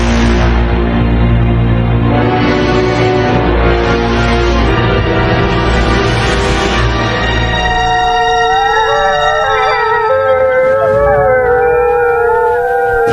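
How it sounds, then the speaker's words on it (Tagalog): Several dogs howl together outdoors at night, long sustained wailing tones rising and overlapping loudly, then thinning into a few wavering higher howls that continue to the end with no talking. "Ingay ng mga aso."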